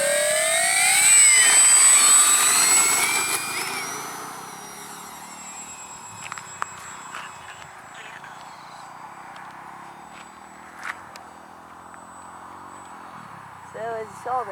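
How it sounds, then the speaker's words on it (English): FlightlineRC FW-190V-2 RC model warplane taking off with half flaps, a loud engine roar up close that fades quickly as the plane climbs away, leaving faint distant buzz and light outdoor noise. "All right, so I'm going to take off with half flap or takeoff flaps."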